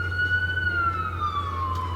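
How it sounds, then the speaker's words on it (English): Ambulance siren passing in the background outside a garage where a 1998 Pontiac Firebird Ram-Air is being worked on, a steady wailing tone slowly falling in pitch over low rumbling noise. "as the ambulance goes by in the background."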